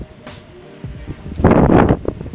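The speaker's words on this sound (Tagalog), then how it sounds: "Lakas ng hangin." Strong wind buffets the microphone on a high balcony at the top of a building, a loud rushing gust swelling in the second half and easing again, with no voices over it.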